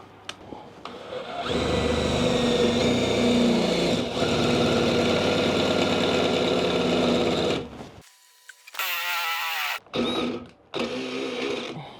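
A DeWalt cordless drill fitted with a 16 mm metal drill bit runs at full speed in a loud, sustained whine for several seconds, then spins in shorter bursts after a pause.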